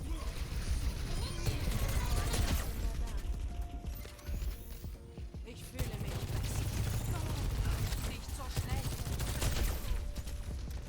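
Rapid gunfire from Sojourn and other heroes in an Overwatch 2 beta 5v5 match, with sustained bursts of shots and mechanical weapon clatter running throughout and only a brief lull midway.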